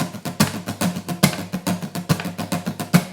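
Rhythmic acoustic guitar strumming, a steady pattern of regular strokes with some accented beats, played close and alone without any voices.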